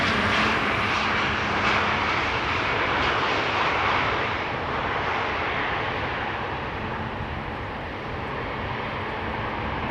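An EasyJet Airbus A320 jet at Schiphol produces a strong, steady engine roar that eases slightly as it moves off, with no talk.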